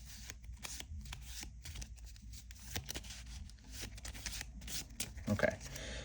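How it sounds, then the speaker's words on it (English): A deck of Marvel Champions playing cards is shuffled by hand at a table in a quick series of soft riffling and flicking bursts. The sound is quiet and close, with low room noise between shuffles. "let's shuffle this up first."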